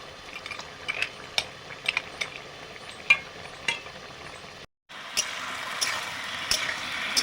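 Fish and bori (lentil dumplings) frying in a pan for a fish curry, with a steady close sizzle broken by sharp utensil clinks and a brief cutout midway; no one speaks.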